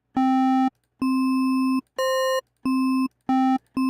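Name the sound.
raw synthesizer wavetable waveforms played alone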